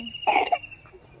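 A young child with a cold, at home during a pretend cooking game, gives one short, harsh cough close by, a brief burst followed by quiet room tone.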